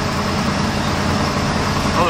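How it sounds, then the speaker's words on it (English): A Chevrolet 350 SS truck engine idles steadily and close by, a continuous low rumble with no revving across the short stretch. "There she is, idling as pretty as you please."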